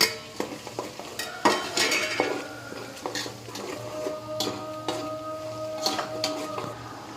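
Spices being sautéed and stirred in a pan for undhiyu, a spoon scraping and clinking against the metal in irregular strokes over a soft sizzle, close and fairly quiet.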